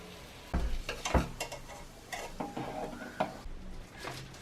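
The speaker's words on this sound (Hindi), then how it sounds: "पहले मैं थोड़ा सा ऑलिव ऑयल लेके अंडे को थोड़ा भुर्जी बना लूंगी" Eggs scrambled and fried in olive oil make a low sizzle beneath intermittent scraping and tapping of a utensil against the pan, close by with no voices.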